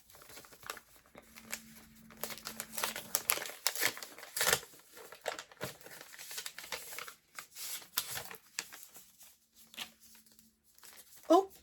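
Paper envelope being torn open and handled, with crinkling, rustling and tearing bursts over several seconds, under faint intermittent talk.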